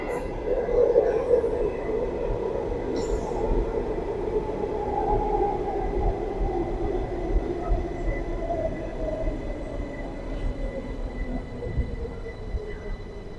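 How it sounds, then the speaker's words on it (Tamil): A light rail LRT train pulls into a station in the Klang area with a loud, continuous rolling rumble and a slowly falling whine as it slows, steady for the whole stretch. "நம்ம போகக்கூடிய ட்ரெயின் வந்துடுச்சு."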